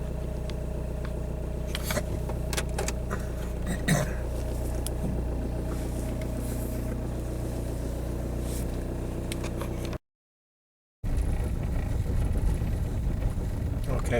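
Diesel VW TDI automatic car driving on the road, a steady low engine rumble heard from inside the cabin, with a brief dropout near the end.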